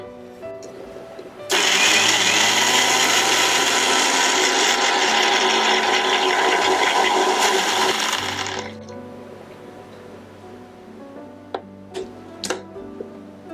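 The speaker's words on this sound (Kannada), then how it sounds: "ಮಿಕ್ಸಿ ಜಾರ್ಗೆ ಹಾಕಿ ಅದನ್ನು ನಾವು ಪ್ಯೂರಿಯಾಗಿ ಮಾಡ್ಕೊಳ್ಳೋಣ" A mixer grinder purees java plum fruit in its jar with no added water, a loud steady whirring drone that starts abruptly, runs for about seven seconds, then cuts off, leaving a low hum and a few light clicks.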